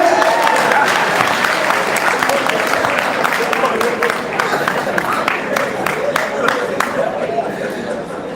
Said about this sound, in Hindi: सारे लोग ताली बजा लो पूरी रात में